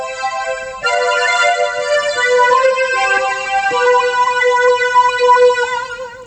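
A Casio CTK6000 keyboard tone with a sweeping phaser effect and maximum reverb plays a wavering sustained melody. The notes shimmer and swirl, clear and fairly loud, with no voices.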